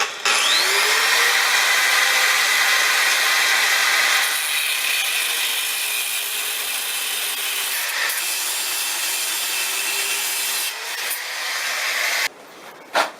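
A continuous, loud cut through a metal tube for a longtail cargo bike frame, a steady bright grinding hiss with slight shifts in pitch that stops abruptly near the end, with no voices.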